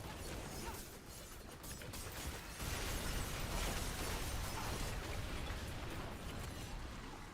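A dense, continuous crackle of explosions from the video game Diablo 4 during a Rogue leveling run, heard as faint, busy bursts and pops that swell in intensity partway through, with no speech.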